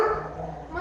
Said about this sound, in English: Hey, dogs.